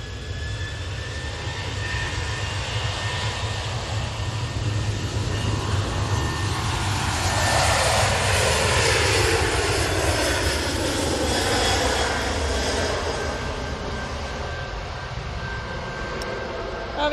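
A Ryanair airliner starts its takeoff, engines spooling up into a steady, swelling roar that peaks midway and then eases slightly, heard from some distance on an airfield.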